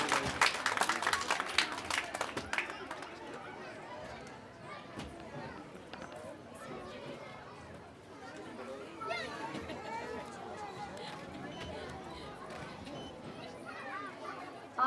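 Audience clapping at a school prize distribution ceremony, a burst of applause strongest at the start then fading into crowd chatter, with a voice speaking over a microphone.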